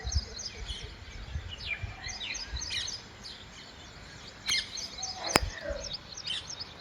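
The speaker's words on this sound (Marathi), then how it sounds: "मस्त चिमण्याचा आवाज पण येऊन राहिला" Sparrows chirp in the calm morning air, with short, bright tweets repeating irregularly over a faint outdoor hiss. Closer, sharper calls stand out now and then.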